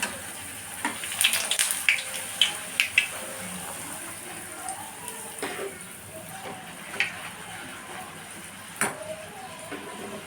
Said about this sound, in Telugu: ఇలా నూనె బాగా వేడైనాక వేసుకోవాలండి.